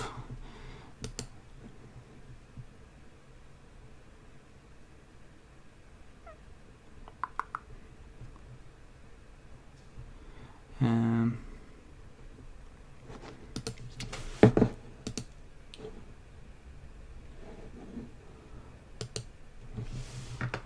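Sparse bursts of computer keyboard typing with a few scattered clicks, close and quiet against a faint room hum, with long pauses between keystrokes.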